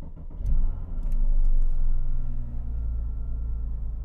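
A Porsche Cayman S engine revs up as the car pulls away, a loud, close, deep growl that swells, eases slightly, then settles into a steady low drone.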